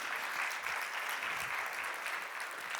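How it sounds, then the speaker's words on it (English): Audience at an education forum clapping, a steady wash of applause from the room that stays even and fairly soft throughout. "we can give him an applause anyway, can we?"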